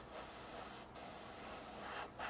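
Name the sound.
airbrush spraying paint on a 1/48 Ju 88 model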